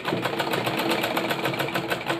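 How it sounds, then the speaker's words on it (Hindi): A sewing machine stitches elastic onto a sleeve with a fast, even mechanical chatter, close and continuous throughout the short burst. "फिर इसमें सिलाई लगा लेनी है।"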